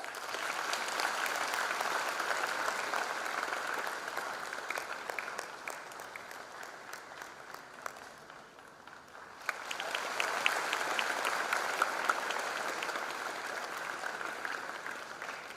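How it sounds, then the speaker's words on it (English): An audience at a college freshers' induction programme applauds as the chief guest is felicitated. Long, steady clapping from a crowd dips partway through and then returns at full strength. "Let's give a round of applause."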